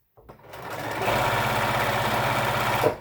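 A sewing machine stitches fabric for bag straps, a close, steady rapid mechanical whir that starts up quickly and runs evenly for a few seconds.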